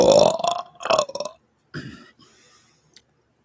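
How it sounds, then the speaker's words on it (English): A person lets out several loud, drawn-out burps in quick succession, close to the mic, then a softer trailing one and a small click before silence. "The only downside to burping a bunch"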